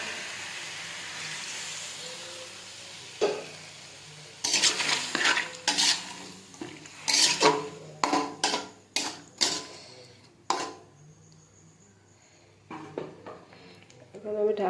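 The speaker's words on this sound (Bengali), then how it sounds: "সুন্দরভাবে নেড়ে চেড়ে একটু পানি দিয়ে দেবো।" Katla fish curry with banana and potato is stirred in a pot as water is added, giving a run of repeated metal spoon scrapes and knocks over a quiet simmering sizzle, close and fairly loud against a calm background.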